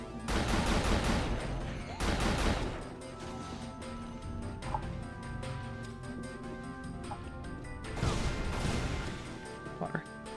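Auto-mag pistol on automatic fire in Unreal Gold with the Evolution mod: fast, tightly spaced shots in loud bursts, with a quieter stretch between the opening volley and a second burst near the end.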